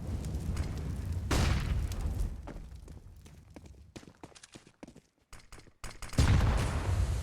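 Stacked grenades blowing up on the Inferno map of Counter-Strike, a loud booming burst followed by scattered crackling pops and debris, then another heavy blast near the end.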